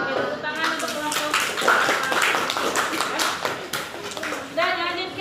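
A classroom group receives a round of clapping from children and adults, steady broadband hand claps lasting several seconds, mixed with voices talking over it.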